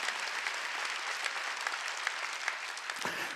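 Steady applause from a congregation at a church worship service, dense and continuous clapping filling the whole stretch before it tapers off at the end.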